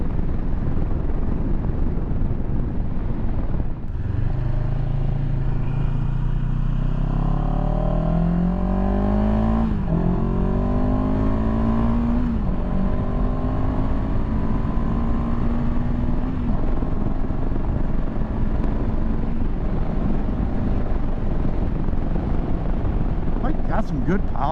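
A 2023 CFMoto 700CL-X Sport motorcycle engine drones steadily while riding, rising in pitch through acceleration with wind noise, loud and close, under a rider talking throughout.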